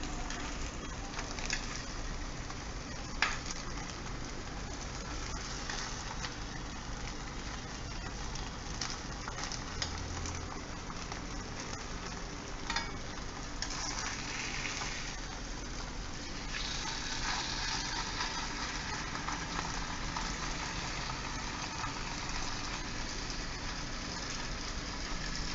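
Chicken breast pieces frying in a pan give a steady, dense sizzle like light rain, with a few soft clicks and scrapes as the pieces are turned over, continuous and fairly close throughout.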